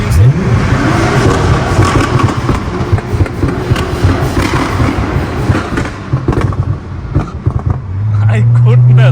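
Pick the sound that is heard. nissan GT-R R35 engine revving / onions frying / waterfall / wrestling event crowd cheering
nissan GT-R R35 engine revving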